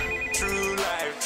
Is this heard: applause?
no